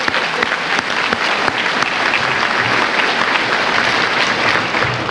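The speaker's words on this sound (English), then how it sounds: "So let's give them a round of applause" Graduation ceremony audience applauds steadily for five seconds, a dense, loud wash of clapping hands from a large crowd without pause.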